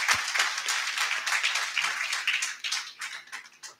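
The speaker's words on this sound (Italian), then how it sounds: "Vogliamo fargli un applauso?" A church congregation in Modena applauds an elder's appointment, a burst of close, lively hand clapping that swells and then thins out toward the end.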